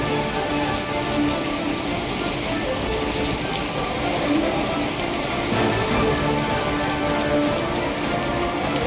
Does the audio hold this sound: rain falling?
yes